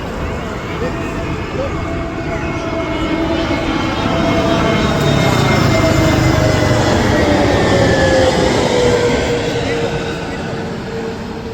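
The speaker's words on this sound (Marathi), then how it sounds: "आता आपलं विमान लँड झालेलं आहे" An airplane landing at night near Mumbai gives a steady, fairly loud jet roar that swells in the middle and eases slightly, heard from some distance.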